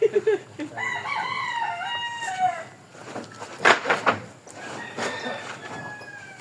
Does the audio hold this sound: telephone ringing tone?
no